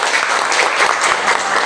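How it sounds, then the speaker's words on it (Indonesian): Classroom applause during a chemistry lesson, a short burst of dense, steady clapping from a group of students, close and alone with no talk over it. "Tepuk tangan."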